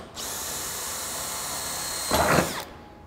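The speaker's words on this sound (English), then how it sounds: "you're going to want a 5/16 drill bit for this, because this all gets mounted with 5/16 bolts" Close, loud whine of a power drill boring a hole with a 5/16 bit into a trailer, running steadily for over two seconds and briefly deepening into a rougher grind as the bit bites through, then stopping.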